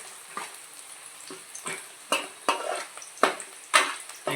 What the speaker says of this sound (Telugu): ఇలా ఆనియన్స్ అంతా మరి బ్రౌన్ కలర్ వేసుకోవాలండి.